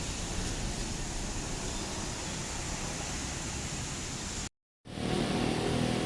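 A bus rolls past at a crowded Indonesian bus terminal, a steady broadband engine and road roar that holds loud and near throughout, briefly cut to silence before resuming.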